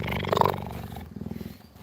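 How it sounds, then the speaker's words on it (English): A close cheetah gives a rough, throaty purr, starting with a louder rumbling burst and settling into a rapid, pulsing rhythm that fades slightly. "And you can hear the purring. It's a very happy sound."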